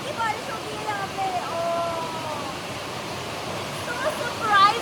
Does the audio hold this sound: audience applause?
no